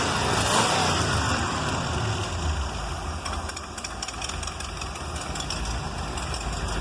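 A Bricklin car, number 2129, runs again after 34 years sitting unused, its engine idling with a rough, knocking low rumble that stays steady and fairly close throughout, with no voices.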